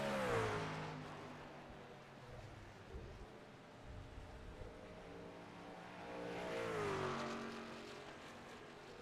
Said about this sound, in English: Plecki will get himself a nice little burnout out there